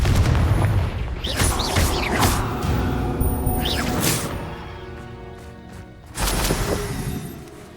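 Confringo blasting spell explosions in Hogwarts Legacy, a series of loud booming blasts with whooshing bursts and rumbling tails, one big hit near the start and another toward the end.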